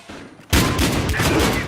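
Sustained burst of gunfire in the multiplayer shooter Battlefield Hardline, cutting in abruptly after a quiet lead-in and staying loud and dense, with rapid overlapping shots to the end.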